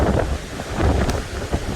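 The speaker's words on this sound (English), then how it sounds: "Definitely got some pulling from the wind." Gale-force gusts of 40–60 mph buffet and tug at a Big Agnes Tiger Wall UL 3 tent, a loud, continuous roar of wind against the microphone with low rumbling surges and no talking.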